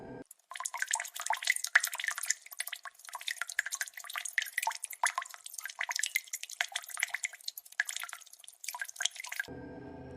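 Water drops fall in a rapid, irregular patter of crisp, close drips, steady and alone for about nine seconds before cutting off abruptly, set in a horror story.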